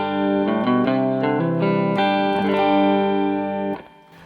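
An electric guitar on its neck pickup plays a run of sustained notes through a LEKATO B-Breaker pedal with no drive, sounding warm, clean and close before cutting off near the end.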